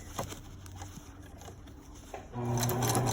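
A sewing machine stitches elastic into a pair of pants, starting up partway through and then running as a steady, close, whirring hum after some quieter handling sounds.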